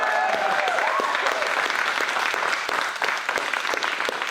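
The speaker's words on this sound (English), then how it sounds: "let's one more round of applause" Continuous applause from a festival crowd at an opening ceremony, dense and sustained throughout with sharp individual claps scattered through a steady wash.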